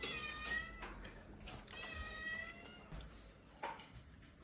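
A cat meows repeatedly near a kebab restaurant, several drawn-out, wavering cries close by over a faint background murmur, with no speech.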